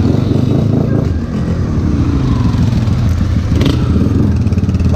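Small motorcycle (Honda Fan 160 or Start 150) riding at night on a Brazilian BR highway, a steady loud engine drone with wind roar and road rumble throughout, continuous and close.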